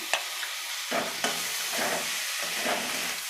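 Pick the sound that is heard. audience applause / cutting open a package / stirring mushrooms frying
stirring mushrooms frying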